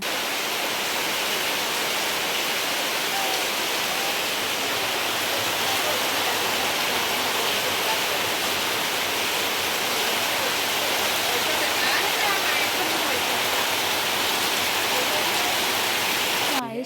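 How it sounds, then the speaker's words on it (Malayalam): Heavy rain pours onto a stretched sheet shelter over a vehicle, a dense, loud and constant hiss of falling and splashing water that continues without a break. "നല്ല മഴ വെള്ളം ചാടണ"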